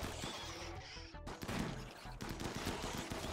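Gunfire in the video game RimWorld: rapid bursts of shots and fusillades crackle in quick succession, with a brief sharp break midway, fairly quiet in the mix and without speech.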